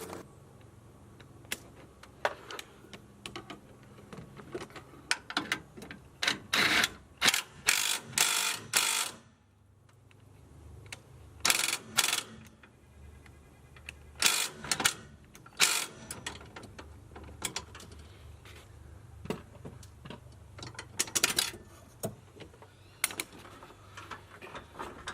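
A ratchet clicks in quick bursts while snugging bolts during a Bilstein 5160 shock install on a 2010 Dodge 3500 6.7 Cummins, sharp close ticking runs separated by short pauses over about twenty-five seconds.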